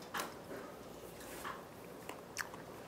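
Crisp bites into autumn gizzard shad dipped lightly in doenjang, with a few sharp crunches spaced across a quiet, close-up stretch and no talking.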